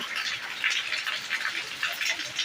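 Heavy rain falling in a village, a dense steady hiss of drops with rhythmic surges, close and fairly loud throughout.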